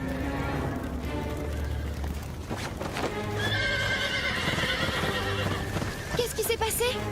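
In an animated cartoon, horses whinny loudly amid steady clopping hooves and commotion during a fire, with people shouting over the noise.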